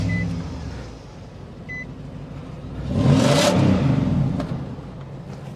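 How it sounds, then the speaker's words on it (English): A Nissan Titan's V8 idles with its back exhaust pipe cut off, a steady raw rumble that swells into a rev for about a second before settling back, close and fairly loud with no talk. "let's start this up. I want to hear the V8."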